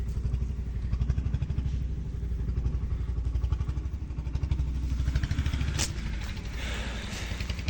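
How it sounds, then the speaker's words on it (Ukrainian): A Kentavr 244 mini tractor's small diesel engine idles with a steady, rapid thumping beat, close by, with a brief clank and a slight rise in revs near the end. "Такий тракторець"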